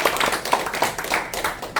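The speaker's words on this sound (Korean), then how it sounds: "큰 박수 한번 부탁드리겠습니다." Audience at a book concert clapping for an emeritus professor about to give congratulatory remarks, a short burst of light, scattered handclaps at moderate level.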